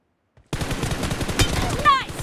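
Rapid automatic gunfire in the mobile video game PUBG Mobile begins after a short silence and runs as a dense, loud burst of shots, ending with a clattering mechanical sound at the close.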